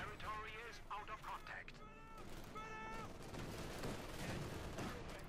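A 37mm Flak Panzer anti-aircraft gun in Company of Heroes 2 fires in rapid bursts of pops amid a busy battle mix, with someone talking over much of it.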